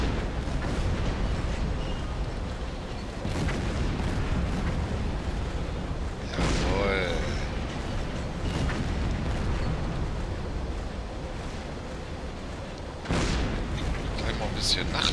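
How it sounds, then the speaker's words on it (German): Gunfire and explosions hitting a U-boat in Silent Hunter III, heard as a steady roar with repeated booming impacts and sharp bursts under someone talking. "Was schießt denn da so verdächtig auf uns?"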